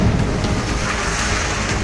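A heavy, rumbling crash of water and debris as a granite slab breaks off at a quarry, loud and sustained, a massive splash roaring through the whole moment without any voices.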